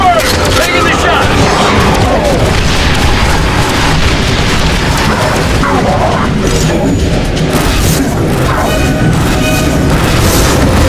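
Artillery fire mission explosions in the video game The Bureau: XCOM Declassified: loud, continuous booming blasts and crashing debris rolling on throughout, with soldiers shouting over the barrage.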